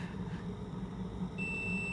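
A steady high electronic beep from a kettle that has boiled starts partway through and holds, over a low humming background with no talking.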